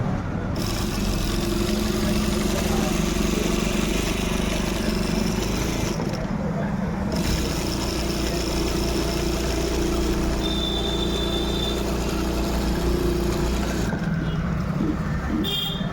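An electric sewing machine stitches along the edge of the buttonhole placket on a gents' shirt, its motor running as a steady, unbroken hum with brief pauses, under continuous talk.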